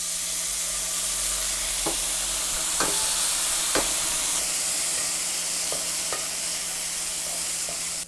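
Green beans and chili peppers stir-fry and steam in a pan with a steady, close sizzling hiss, broken by a few sharp clacks of stirring.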